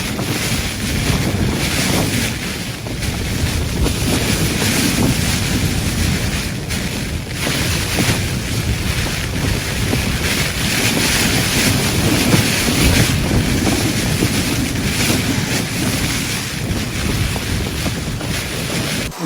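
Heavy rain and strong wind batter a wild camping tent, a loud, unbroken roar of gusts and rain drumming with wind buffeting the microphone, steady for the whole stretch and no voices.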